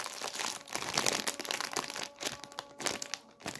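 Crinkly plastic snack bag of tomato-flavored Ash Ash snacks being torn open and handled, a close, steady stream of sharp crackling and rustling with louder bursts, no voices.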